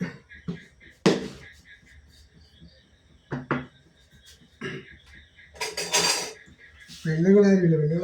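A pan is set on a home kitchen stove and handled, with a few sharp metallic clanks and scrapes spaced out over quiet background. A brief voice comes at the end.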